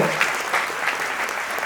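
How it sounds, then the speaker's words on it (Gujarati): A crowd at a community gathering applauds volunteers, with dense, steady clapping from many people throughout. "આજે એમને તાળીઓના ગડગડાટથી વધાવી લઈએ"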